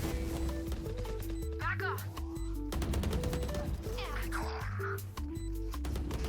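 Rapid bursts of gunfire from the tactical shooter game Valorant, sharp repeated shots layered over steady background music and game effects, heard clearly at moderate loudness.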